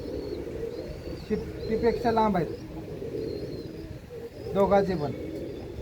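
Yellow Punjabi pigeons coo close by in soft, throaty bursts that repeat a few times, while someone talks over them.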